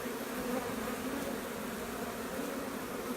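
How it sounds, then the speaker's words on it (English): Honeybees swarming around a swarm trap outdoors, a steady, dense insect buzz that holds evenly throughout without pause. "I noticed all these bees yesterday evening"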